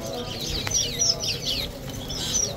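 Caged birds, including fowl, call and chirp at the Mureidi bird market in Baghdad, bright repeated calls over a crowded market murmur.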